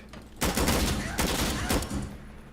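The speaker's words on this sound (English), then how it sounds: "shotguns are very deadly in this game" Shotgun blasts in the Insurgency Sandstorm video game, several loud, close booming shots in quick succession with rattling gunfire textures and a brief lull between bursts.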